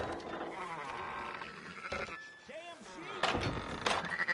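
A few short sheep bleats rise amid talking and some clattering in the video game Red Dead Redemption 2, the calls brief and wavering.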